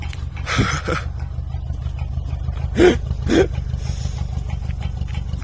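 A 1977 Honda Accord engine running at a low, steady idle, with a few brief louder revs or bursts rising above the rumble, heard close with no talking.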